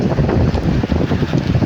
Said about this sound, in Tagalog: malakas yung hangin at saka medyo lumalaki na yung alon, umuulan pa